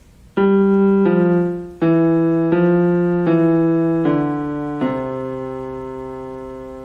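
Piano left hand in C position, pinky on C and thumb on G, plays a short run of steady, evenly spaced single notes, close and clear, the last note held and fading with no voices.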